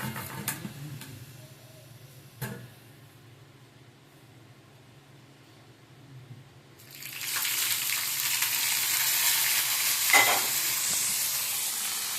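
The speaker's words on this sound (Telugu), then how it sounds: "పోపు వేసేసుకున్నాము" Quiet clinking and stirring at first, then a sudden loud sizzle as tempering spices and green chilies hit hot oil, crackling steadily to the end.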